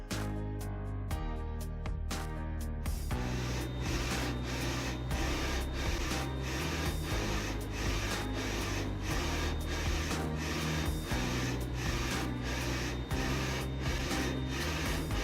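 Mutoh large format color printer running its first test print, a steady mechanical whir and buzz with repeated short carriage strokes and clicks, close and fairly quiet.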